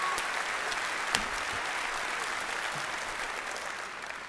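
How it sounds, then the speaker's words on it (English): A large audience at the Bethesda E3 2015 press conference applauds in a continuous, distant-sounding roar of clapping that holds steady for several seconds, with one sharp clap standing out early on. "can I please get another round of applause for that man?"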